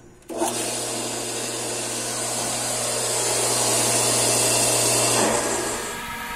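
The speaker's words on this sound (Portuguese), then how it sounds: "vou ligar e começar a filtrar" A swimming pool filter pump switches on with a sudden start and then runs as a steady loud motor hum mixed with rushing water, holding for several seconds before dropping back.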